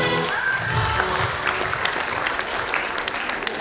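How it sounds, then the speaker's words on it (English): Audience applause at the Classmate All Rounder 2023 grand finale, a steady wash of clapping from a large crowd filling the whole stretch after a performance, loud and sustained with no talk over it. "All right, can we hear a big round of applause?"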